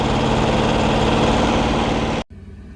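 A semi truck and its APU engine run together in a truck stop parking lot, giving a loud, steady low rumble that cuts off abruptly near the end, leaving a quieter engine hum.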